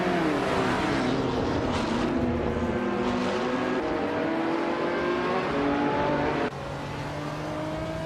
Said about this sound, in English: Plebis 3 is driving a 2015 Porsche 718 Cayman GT4